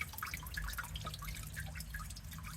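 Coolant and water drip from a Rolls-Royce Silver Shadow engine, with faint, irregular droplet plinks over a low background hum.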